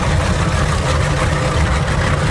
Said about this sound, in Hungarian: A motorcsónakoznak, berántották és most hasítanak.